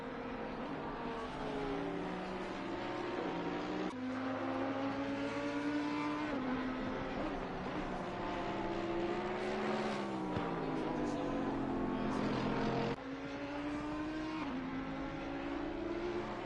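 Race cars, including a BMW, lapping Laguna Seca, engines droning and shifting pitch as they pass, one roaring car after another with gear changes and a sudden cut in tone near the end, continuous and fairly close.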